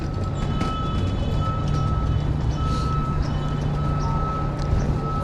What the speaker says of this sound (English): Feels like the traffic slowed down a little bit though.